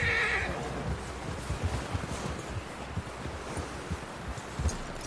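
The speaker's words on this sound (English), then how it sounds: "Someone help John down off this horse." A horse whinnies briefly at the start in the video game Red Dead Redemption 2, followed by soft rustling and scattered low thuds, with no voices.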